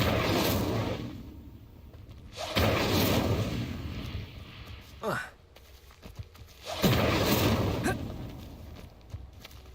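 The Incendio fire spell is cast in the video game Hogwarts Legacy, giving repeated bursts of roaring, whooshing flame separated by quieter gaps, with soft footsteps and movement in between.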